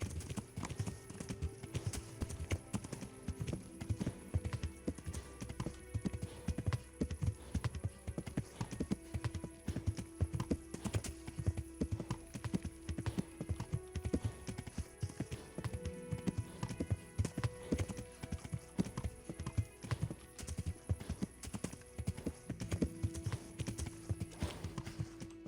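A horse's hooves clip-clop steadily in the video game Kingdom Come: Deliverance, a continuous even trot that runs the whole time over a low ambient bed, with no talking.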